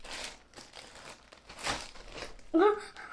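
Plastic shipping bag crinkling and rustling as it is pulled off a DJI drone box, close and fairly loud in several bursts, with a brief voice near the end.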